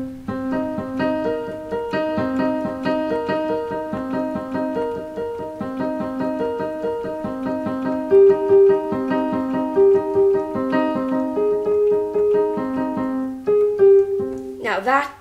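Solo piano plays a passage from a song, with a steady repeated pattern of notes and a higher melody line entering partway through, ending in a quick run.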